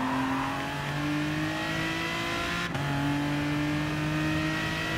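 An Aston Martin DBR9 GT1 race car in Gran Turismo Sport, its engine droning loud and close while holding a steady pitch, then a quick gear change midway before the tone climbs again.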